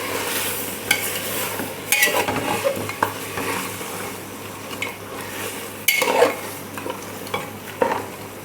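Mutton curry masala being stirred and mixed in a metal pan, with loud, close clanks and scrapes of a utensil against the pan at irregular intervals over a light sizzle, without any voices.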